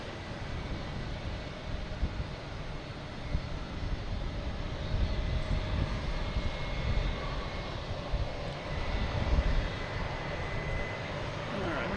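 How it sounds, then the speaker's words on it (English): A British Airways Boeing 787 from Heathrow on approach to Boston Logan gives a steady, distant engine drone that swells slightly, with faint voices in the background. "got British Airways coming in, a 787 from Heathrow"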